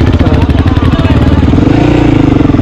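A Honda XR600R dual-sport motorcycle rides through sand on an off-road route in Africa toward Lundazi. Its loud, close engine drones steadily with a fast pulsing beat and no clear pauses.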